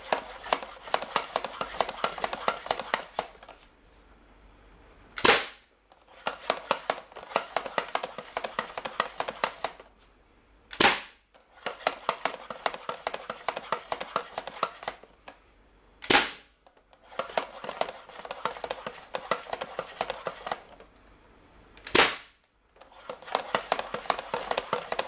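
A modified Lego Atlantis harpoon dart blaster is pumped with quick rhythmic strokes, eight per shot, and fired with a sharp release through a ball valve at a box, four times in a repeating pump-and-shoot pattern.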